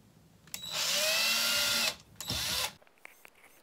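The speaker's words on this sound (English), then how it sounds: "I'm going to drill the hole first with my driver" A drill driver whirs loudly for over a second while drilling a hole, stops briefly, then spins again in a shorter burst before falling quiet.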